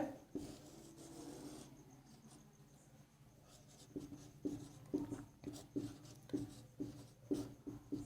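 Chalk or marker writing on a classroom board during a Class 10 heights-and-distances maths lesson, a series of short scratchy strokes in uneven rhythm, close and fairly faint with no talk.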